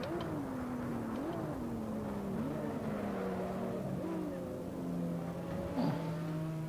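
Simulated BMW 1M Stage 3 race car engine in Assetto Corsa at the Barcelona circuit, a steady droning tone that rises and dips through gear changes, continuous and fairly close throughout.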